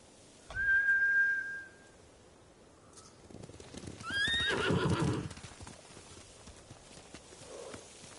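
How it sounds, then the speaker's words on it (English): Spooked samurai horses in the video game Ghost of Tsushima, two loud whinnies a few seconds apart, the second longer and trembling, over a low rumble of hooves and ambient game sound. "Bastards scared off the horses."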